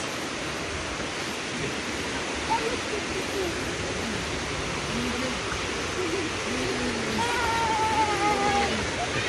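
A waterfall at Bongabon roars as a steady broadband rush, with faint voices and brief calls heard over the constant noise.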